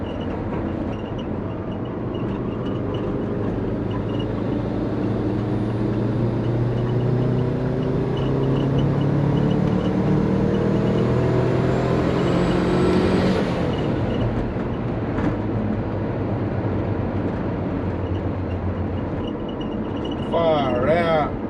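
A twin-turbo Subaru Forester accelerates hard under boost, its engine note rising steadily in pitch through second gear before dropping sharply at the shift. The sound is loud and in-cabin, and a voice comes in near the end.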